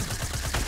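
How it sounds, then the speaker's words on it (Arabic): Pump shotgun fire in the Fortnite video game, heard as a few close, punchy blasts in quick succession with a busy game-sound background. "طلقة بالبومب والسمجيل خلاص."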